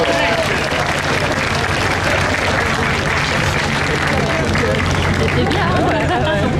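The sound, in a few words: cruise passengers applauding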